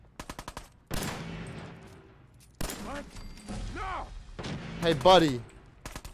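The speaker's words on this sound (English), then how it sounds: "How about you stop shooting my friends?" A quick string of gunshots from a Fallout 4 firefight opens the sequence, followed by heavier booming shots and impacts, with a voice talking between the blasts.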